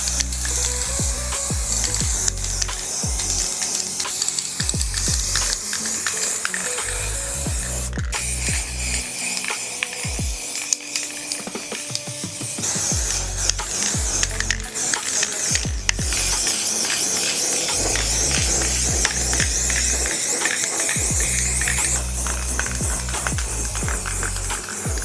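A can of spray paint being sprayed during a thrift-store DIY makeover: long, continuous hissing bursts with short pauses and rattles between them, close and fairly loud, with no talk.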